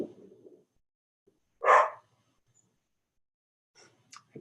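A single loud, sharp dog bark stands out in a quiet room. Faint scattered sounds come before and after it.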